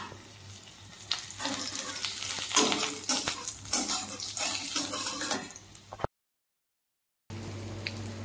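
Food frying in hot oil in a home kitchen, a steady close sizzle broken by stirring scrapes and clatter, with a brief gap of silence near the end before the frying resumes.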